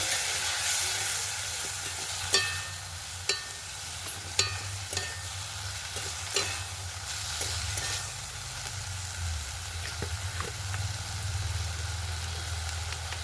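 Bengali curry being sautéed with a splash of water sizzles steadily in a pan, with a low background hum and a few sharp spoon knocks and scrapes at irregular intervals.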